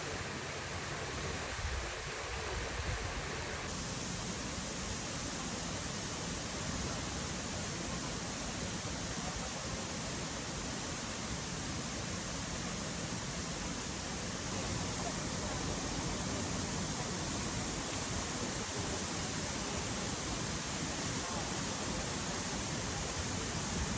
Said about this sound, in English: but the waterfall was amazing